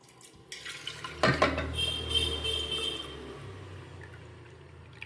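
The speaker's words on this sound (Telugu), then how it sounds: "పప్పు దీనికి గిద్దన్నర నీళ్ళు పోస్తున్నాను" Water is poured from a vessel onto lentils in a pot for fenugreek-leaf dal: a sudden splash and clatter, then a steady close pour that slowly thins out.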